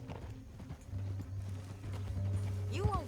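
Horse hooves clip-clopping steadily while riding in Red Dead Redemption 2, a continuous rhythmic trot under a low background hum, with a brief whinny near the end.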